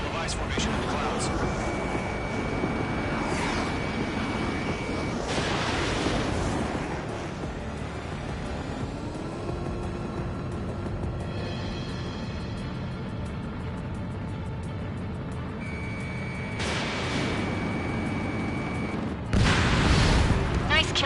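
Jet dogfight in Ace Combat 7 with a steady roar of engines and wind, cannon bursts and booming explosions rising at intervals, and radio chatter from pilots heard over the action.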